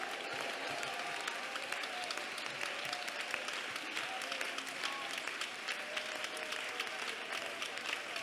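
Congregation clapping hands together at an IPC prayer centre service, a dense and sustained burst of applause lasting several seconds, moderately loud, with voices mixed into the crowd.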